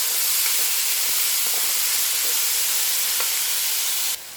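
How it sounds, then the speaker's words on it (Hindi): Half a kilo of chickpeas fry in hot oil with a loud, continuous bright hiss and sizzle that carries on steadily throughout, then drops abruptly in level at the very end. "अब ऑयल गर्म हो गया, अब हम चने, आधा किलो ये चने हैं, अब हम इसको फ्राई कर लेंगे।"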